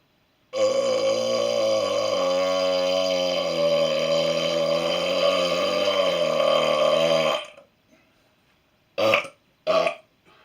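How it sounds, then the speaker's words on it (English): A long, loud, drawn-out burp after drinking Dr. Pepper, outdoors during snowfall. It rumbles steadily for about seven seconds, then after a pause come two short, sharp bursts of sound. "Got some Dr. Pepper assisting me with these burps."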